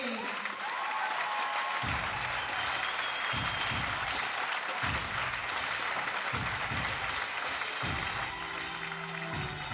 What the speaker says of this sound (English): they produced a great final and the fans still applauding